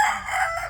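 A rooster crows loudly and close up at a chicken farm, one sustained crow filling the whole brief moment with no talk over it.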